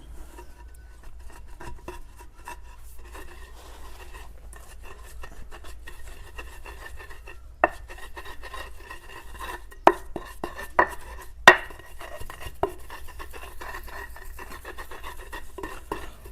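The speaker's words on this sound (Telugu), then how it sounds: "తర్వాత కొద్దిగా మనం సరిపడా ఉప్పు వేసుకుందాం మళ్ళీ దంచుకుందాం" Garlic and chili paste pounded with salt in a stone mortar for a village-style egg garlic chutney, heard as sparse grinding rubs and several sharp knocks standing out partway through, close by, with a steady low hum underneath.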